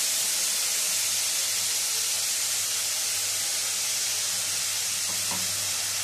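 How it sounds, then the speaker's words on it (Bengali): Ground spice paste, made with cashew nuts, hits hot oil in a pan over a low-to-medium gas flame, giving a steady close sizzle and hiss that runs throughout with no voices. "নেড়ে চেড়ে নিয়ে গ্যাস এর মধ্যে দিয়ে দিচ্ছি পেস্ট করে নেওয়া মশলাটা"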